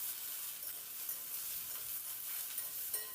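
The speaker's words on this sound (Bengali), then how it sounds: "ভেন্ডিটাকে তেলের মধ্যে দিয়ে একটু নাড়াচাড়া করে ভেন্ডিটাকে হালকা করে একটু ভেজে নেব" Okra frying and being stirred in hot mustard oil, a steady close sizzle with soft scraping from the stirring, and no voices.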